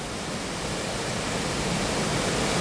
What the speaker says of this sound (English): hopefully you can hear the roar of the water there